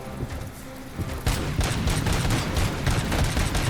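Sustained gunfire from Robocop: Rogue City, a loud, dense stream of rapid shots that thickens after the first second and carries on without pause, with no talking over it.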